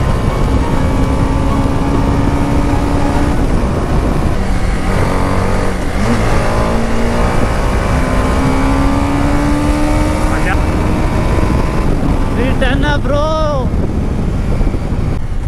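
A TVS Apache RR310 motorcycle engine droning continuously under a riding rider, its pitch climbing and falling as it accelerates, mixed with heavy wind buffeting on the microphone and someone speaking throughout.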